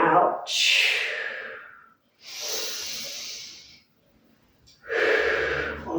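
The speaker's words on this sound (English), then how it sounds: "Breathe in and out, and in and out." Slow, deliberate breaths during a standing Pilates routine: long audible exhales and inhales alternating in a steady rhythm, close and clear, with short pauses between breaths and no talking.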